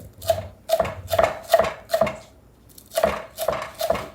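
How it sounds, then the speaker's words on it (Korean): Green onions thinly sliced with a knife on a cutting board, heard as a steady run of crisp, close chopping taps, about eight strokes with a short pause partway through. "이렇게 얇게 송송송송 썰어주시면 좋겠습니다."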